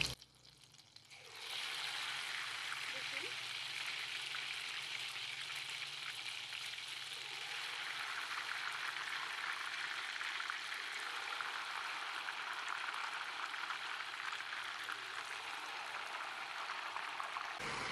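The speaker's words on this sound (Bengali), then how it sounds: "এবার কিন্তু আমি এই তেলের মধ্যে অল্প অল্প করে দিয়ে দেবো, আর অবশ্যই কিন্তু মাঝখানেই দিতে হবে।" Batter for Rajasthani Babosa Misti dropped into hot ghee, settling into a steady, fairly quiet hiss and crackle of frying that runs unbroken without any talk.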